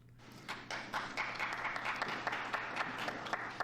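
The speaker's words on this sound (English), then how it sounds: "Now, I bet you that was a Russian clapping" An audience claps during a political speech in Munich, a scattered burst of individual hand claps that builds into steady, moderately loud applause with distinct sharp claps standing out.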